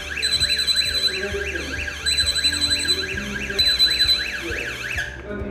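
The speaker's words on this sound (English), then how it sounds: "This is a code blue receiver siren." A loud electronic siren wails in rapid rising-and-falling sweeps, layered with high beeping tones, continuous until it cuts off abruptly near the end.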